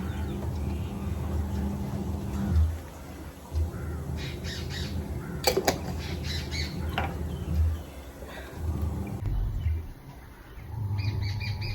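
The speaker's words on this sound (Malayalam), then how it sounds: "ഇപ്പൊ തന്നെ കേൾക്കണില്ലേ കിളികളുടെ ഒച്ച?" Birds squawking and chirping outdoors near a home kitchen, with crow-like caws and bright repeated calls in scattered bursts over low background hum and noise.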